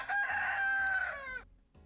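A rooster in the point-and-click adventure game Polda 2 crows once, a loud drawn-out cock-a-doodle-doo heard close and clear with no talking, ending in a short falling tail.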